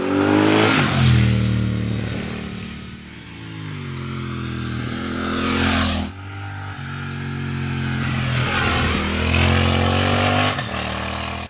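A Triumph Thruxton RS motorcycle's twin-cylinder engine revs up close and loud in repeated swells, climbing and falling in pitch several times, alone without talk.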